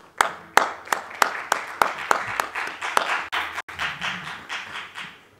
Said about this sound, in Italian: facciamo un grande applauso a chi ha organizzato questa manifestazione